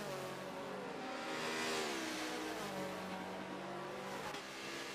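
Race car engines in Forza 7 at Spa, including a Ford Focus, drone and rev continuously, with pitch rising and falling through gear changes in a loud, sustained roar.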